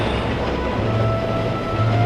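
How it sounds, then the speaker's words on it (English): A tram arrives at a ride in the Minecraft Universal Studios DLC, played in VR: a steady rail rumble with a faint high squeal, louder near the end. "They'll bring us a tram"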